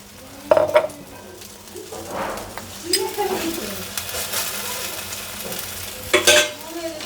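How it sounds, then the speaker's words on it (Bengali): Paratha made with multimillet flour and greens frying in a pan with ghee, a sizzling hiss swelling as the ghee goes in, with a few clinks of a utensil against the pan. "একটু ঘি দিয়ে দিই।"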